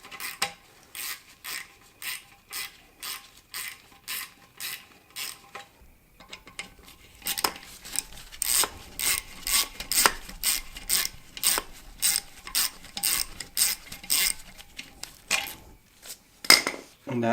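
A ratchet wrench with an 8 mm socket unscrews the bolts holding the black box on a Husqvarna Svartpilen motorcycle. The pawl gives rapid, even clicking in steady bursts, close and clear, with a short pause partway through.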